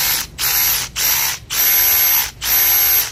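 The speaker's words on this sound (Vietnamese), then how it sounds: "Này là trượt nhông," A Makita cordless drill from the XT269M combo, set to screwdriving mode, with its clutch gears slipping: four loud, close rattling ratchet bursts separated by short pauses, with no voices.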